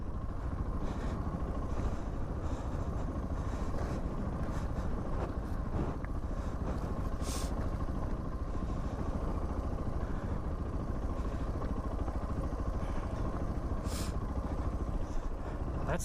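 A Suzuki DR650 motorcycle is ridden through the desert, its engine droning steadily under heavy wind buffeting across the microphone, with no one speaking.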